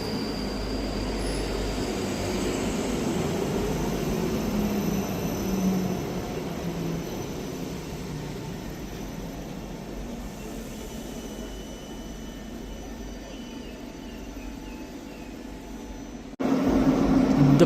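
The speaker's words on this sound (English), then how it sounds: "Departing out now is the delayed 10:51 Scotrail service from Helmsburgh Central to Edinburgh Waverley." A Scotrail train of class 334 units departs Edinburgh Haymarket station, a steady low rumble of wheels and traction rolling past close by, easing slightly before a louder surge near the end.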